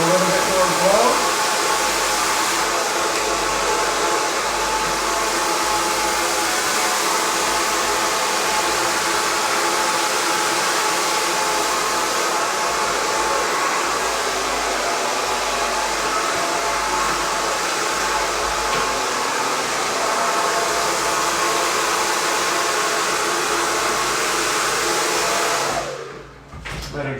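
A hair dryer blow-drying hair at home runs loud and steady up close as a continuous airy roar, with a faint voice underneath, before it cuts off near the end.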